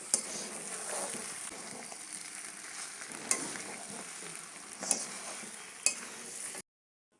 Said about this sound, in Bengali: মা এখন রান্না করছে, মশলাটা কষাচ্ছে